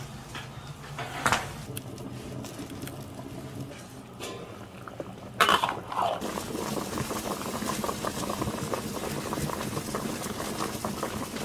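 Beef spine bones stew with soy sauce, baijiu and salt in a covered iron pot, giving a steady close bubbling simmer with a couple of brief knocks against the lid.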